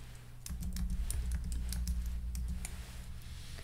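Text being typed on a computer keyboard: a steady run of close, crisp key clicks lasting a few seconds over a low background hum.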